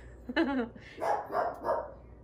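A pet dog barks indoors, one sharp close bark followed by a few lower, softer woofs spaced out over a couple of seconds in a quiet room.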